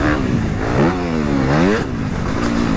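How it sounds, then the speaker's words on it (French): A Honda CRF 250 motorcycle engine revs up and down in three or four rising and falling sweeps, loud and close, with no talking. "Tu peux tout faire avec ce moteur, il est dingue."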